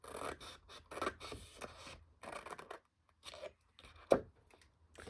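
Scissors snip through 12x12 patterned paper at an angle, a run of close, dry rasping cuts in uneven bursts with short pauses and a sharper final snip near the end.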